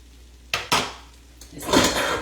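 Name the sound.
dishing up coconut shrimp pasta from the pan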